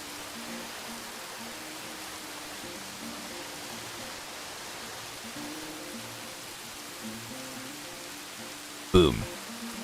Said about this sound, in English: But it starts to rain again.